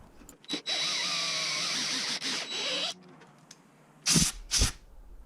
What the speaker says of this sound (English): So I'll drill that again until I get that evened up.